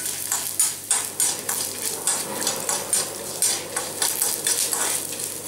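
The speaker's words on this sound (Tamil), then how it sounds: "நல்லா வறுத்து எடுத்துக்கோங்க" Coriander seeds dry-roasting in a pan for chutney, a steady dry rustle broken by regular scraping strokes of a spoon stirring them, close and moderately loud with no voices.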